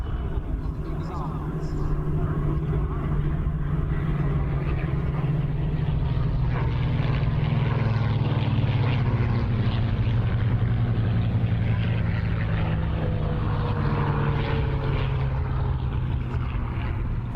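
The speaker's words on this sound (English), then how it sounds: "now we're able to present 3 Spitfire 1As, and here they come from the left" Three Spitfire 1A fighter planes at an air show drone steadily overhead, a broad continuous engine roar that stays loud and slowly shifts in pitch, with a commentator's voice faintly underneath.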